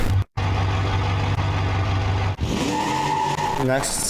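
A 5.7-liter V8 with a 5-speed manual in a BeamNG.drive car, the third gen SE V8 Sport R, holds a steady loud drone, cuts out briefly, then revs and climbs in pitch toward the end.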